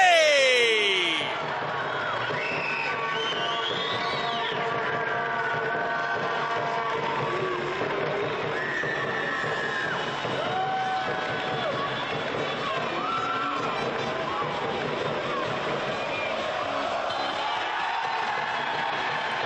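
Stadium crowd cheering and whooping for Lions FC after winning the 2025 NPL Men's Queensland grand final against Moreton City Excelsior, a sustained dense roar with shouts rising over it, a voice heard briefly at the start.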